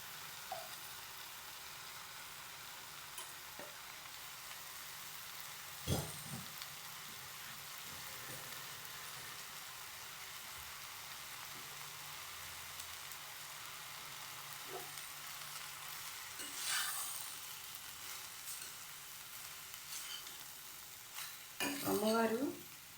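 Ginger frying in a hot pan gives a faint, steady sizzle that runs throughout, with occasional soft clinks and scrapes of a utensil and a louder stirring clatter near the end.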